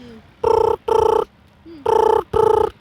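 A man imitates a telephone ringing with his mouth, making two pairs of short, loud, buzzy trill bursts with a brief gap within each pair and a longer pause between the pairs.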